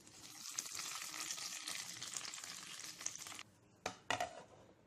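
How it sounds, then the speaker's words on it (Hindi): Hot tempering oil with curry leaves sizzles loudly as it is poured into coconut chutney, a dense crackling hiss that cuts off abruptly, followed by a couple of short clattering bursts. "चलिए टेम्परिंग इसमें डाल दें"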